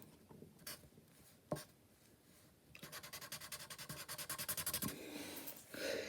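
Pencil drawing a robot's feet on paper: scattered scratchy strokes, then a fast regular run of about a dozen rhythmic back-and-forth scribbles, close and fairly quiet, with no talking.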